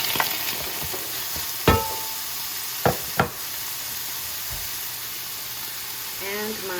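Artichoke stirred into a pan of sizzling onions and garlic, steady frying hiss with a few sharp knocks of a utensil against the pan and a brief squeak near the end.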